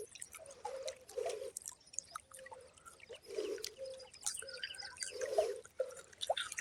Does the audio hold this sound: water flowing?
yes